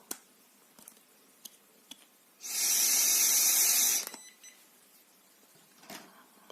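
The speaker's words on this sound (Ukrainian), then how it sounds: "Подуємо недовго." A brief, steady breath of air blows into an AL-8800 digital electrochemical breathalyzer for about a second and a half. Faint clicks come before and after it, and the background is quiet.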